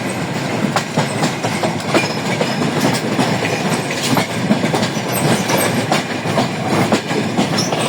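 A passenger train pulling out of Kamalapur railway station gathers speed, heard from on board as a loud steady rumble with rhythmic clickety-clack of wheels over rail joints.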